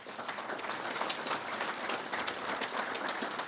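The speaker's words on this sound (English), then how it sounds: "I think they do deserve a round of applause for that." Steady, dense applause from a crowd, sustained throughout without pauses, fairly close and even in loudness.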